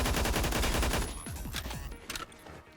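Rapid automatic gunfire from a video game weapon fitted with a closed bolt and muzzle booster rattles off in a fast, even burst, then trails into a few scattered shots and fading echoes.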